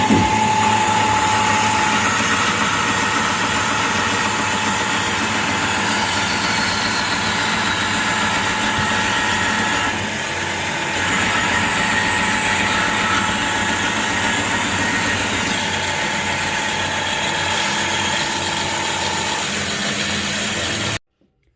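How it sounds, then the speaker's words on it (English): A power saw splits wood slabs for knife handles in a knifemaking shop, its motor giving a steady continuous drone for about twenty seconds before stopping abruptly. "So I have saw set up right there. I'll split it."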